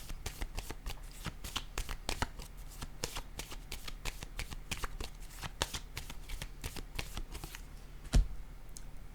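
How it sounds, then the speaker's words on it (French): Tarot cards shuffled by hand in a steady rapid riffling patter, close and clear, ending with one card slapped down onto a table; a voice speaks faintly underneath. "je vais déposer une autre carte ici"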